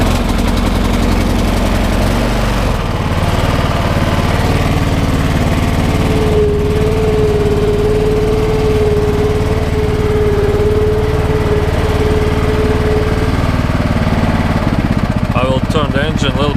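A 2018 Stiga Tornado 2098 H riding lawn mower with a 12 hp engine runs steadily up close, a loud continuous engine drone with a sustained whine through the middle and a brief rattle near the end.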